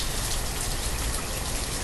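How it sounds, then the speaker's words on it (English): Rain in the video game Banished, a dense, steady, close hiss of falling rain with no gaps or other sounds. "It's raining."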